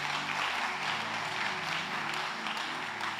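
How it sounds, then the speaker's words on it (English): A conference audience at a men's gathering applauds a father as he comes up, a steady, dense wash of clapping that holds at one level throughout with no talk over it. "let's clap for our father as he comes up"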